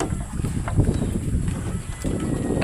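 Strong wind roars steadily around a small fishing boat out at sea, a dense low rumble with faint creaks and knocks mixed in, no clear voices.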